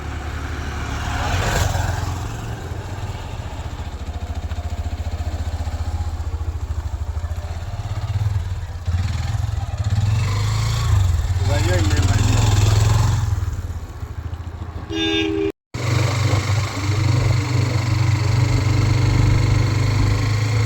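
A motorcycle engine runs close by on a song-shoot location, a steady low rumbling idle with slight revving swells throughout, briefly cut off near the end before resuming.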